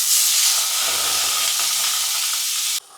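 Cumin, tomato and onion sizzle loudly in olive oil in a pan, a steady bright hiss that holds close and even for several seconds and then drops off abruptly at the end.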